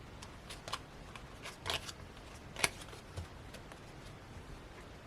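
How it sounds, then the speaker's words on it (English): A small 13-card tarot deck is shuffled by hand in a quiet room, with soft papery riffles and a few sharper card snaps, and no one speaks. "This deck is so small and hard to shuffle"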